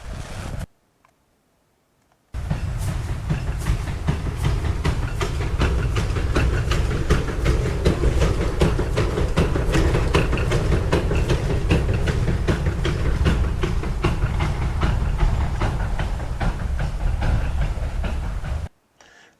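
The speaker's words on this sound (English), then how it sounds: "I recorded trains coming in and out of the station" Loud, steady rumble and rhythmic clatter of train cars rolling in or out of a station, close up, sustained for a long stretch before cutting off.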